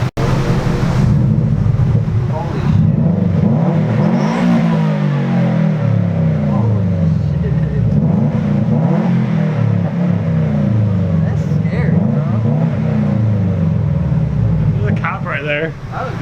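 A Nissan Versa with a loud aftermarket exhaust drones and revs steadily throughout, its deep rumble rising and falling in pitch close by, with people talking over it.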